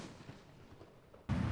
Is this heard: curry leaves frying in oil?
no